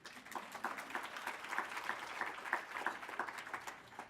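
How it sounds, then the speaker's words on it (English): Applause from an audience at a symposium on race and poverty, a steady wash of many hands clapping at moderate, fairly distant level for about four seconds, with no talking. "You all can clap for that."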